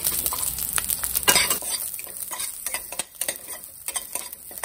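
Chillies and fresh neem flowers are stirred into a dish cooking in a pan, heard as a busy run of close metallic scraping and clinking with a light sizzle underneath.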